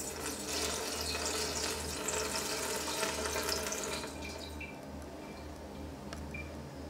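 Steady rice water pouring and splashing into a gallon jug, continuous for about four seconds, then thinning to a quieter trickle with a few small clicks.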